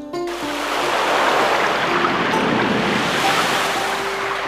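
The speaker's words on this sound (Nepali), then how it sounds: "मर्स्याङ्दी नदी बुलबुले बजारको बीच भागबाट बगेको छ" The Marsyangdi river rushes through Bulbule bazaar in Nepal, a dense, continuous roar of flowing water close by, briefly preceded by a few short tones at the start.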